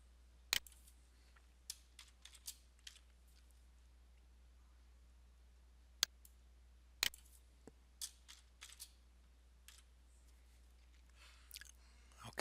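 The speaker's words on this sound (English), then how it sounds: "Okay, we've got that typed in." Keys tapped on a computer keyboard while configuring virtual machine settings, sparse irregular clicks and short bursts of typing, quiet and close, with pauses between strokes.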